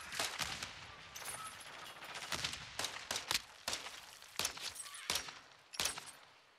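Rapid gunfire from a shotgun in a shooter video game, a dense string of sharp, loud bursts fired in quick succession with short gaps between volleys.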